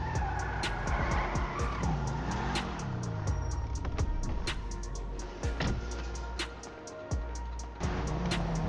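Car driving through an upscale neighbourhood in GTA, engine droning steadily with tire skids and squeals sweeping up and down, plus sharp clicks and thumps scattered throughout, no voices.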